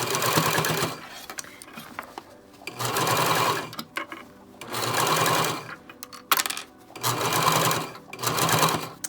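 A sewing machine stitches along the edge of a fabric face mask in steady bursts, whirring for a couple of seconds at a time with short pauses between runs, close and clear.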